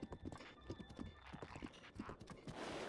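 Hooves of a galloping horse in the video game Zelda Breath of the Wild pound in a quick, steady rhythm, with a brief whinny and faint game sounds underneath.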